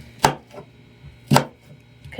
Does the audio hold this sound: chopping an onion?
yes